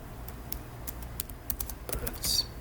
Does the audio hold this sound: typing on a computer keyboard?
yes